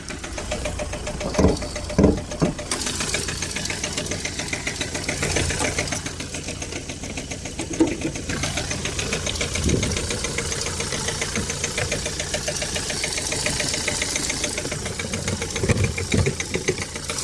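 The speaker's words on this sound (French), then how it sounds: "Donc vous entendez le moteur, il saccade." A Renault Clio 3 1.5 dCi diesel engine idles roughly with an uneven, stumbling knock and periodic misfire surges. It stays close and steady, with brief clanks and shop noise over it.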